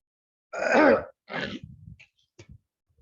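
A person clears their throat with a harsh, gravelly rasp, then follows with a few shorter guttural coughs and grunts during a lung-cleansing breathing exercise, close and otherwise quiet.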